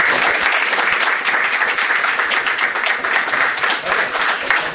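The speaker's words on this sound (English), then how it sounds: "So how about a round of applause?" A city council audience applauds steadily after a proclamation is presented, a dense, even wash of many hands clapping close and loud for the whole stretch without any speech over it.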